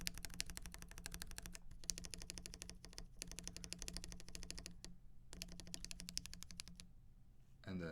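Steady, continuous typing on a mechanical keyboard fitted with lubed Mauve switches, a dense run of soft, smooth clicks that pauses briefly a few times before carrying on, close and alone.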